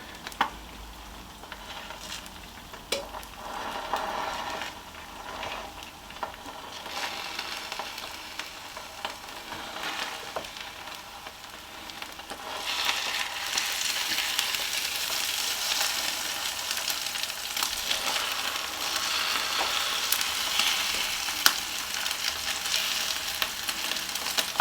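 Steady sizzling and crackling of a couple of eggs frying in a Ninja air fryer, constant and close, growing louder and brighter about halfway through.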